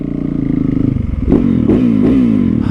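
A supermoto motorcycle engine runs close by, chugging steadily and then rising with a few quick revs in the second half.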